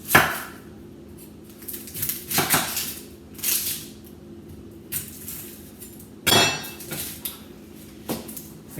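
An onion being chopped with a knife on a cutting board, a series of sharp, close knocks and cuts in an uneven rhythm with short pauses between them.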